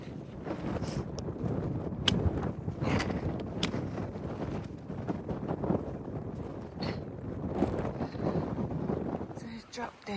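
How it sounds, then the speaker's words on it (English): Strong gusting wind roars across exposed Franconia Ridge on the Appalachian Trail, a steady broadband buffeting with wind noise hitting the microphone throughout, and faint voices in places. "Very, very windy. Wind pushed me twice."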